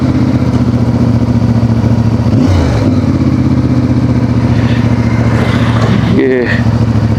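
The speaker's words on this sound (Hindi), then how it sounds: "और इधर ही हमें कहीं पर अपनी बाइक पार्क करनी पड़ेगी।" A motorcycle rumbles steadily at low speed while being ridden to a parking spot on a desert road trip in Cholistan, with the engine loud and close throughout and a brief shift in tone partway through.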